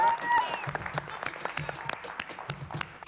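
Studio audience applause on a Peruvian television cooking competition, a steady wash of clapping lasting about three seconds, with voices audible in the mix.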